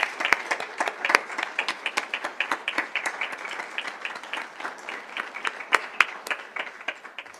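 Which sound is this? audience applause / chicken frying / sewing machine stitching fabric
audience applause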